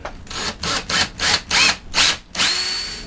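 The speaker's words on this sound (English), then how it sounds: "Now I will drill pilot holes for the hardware to attach it." A power drill whirs in six short bursts with brief pauses between, drilling pilot holes aboard a catamaran, then runs a longer final stretch; close and fairly loud, no talking.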